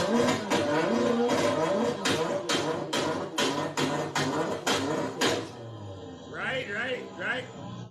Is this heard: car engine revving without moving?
yes